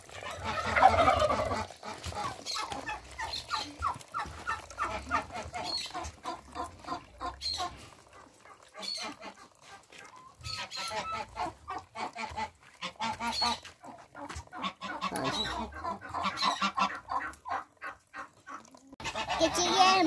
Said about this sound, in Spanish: Veamos si les gustan las gallinas.